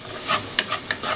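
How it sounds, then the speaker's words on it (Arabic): Onions being stirred as they fry in hot ghee in a pan, with a steady sizzle and several sharp scraping strokes of the utensil, close and clear with no talk. "وهنقلب البصل لحد ما يبدأ يدبل معانا"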